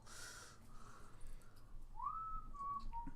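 A person whistles a single rising then gliding tune of several notes, clear and moderately near over a low background murmur, after a stretch of quieter indistinct sound.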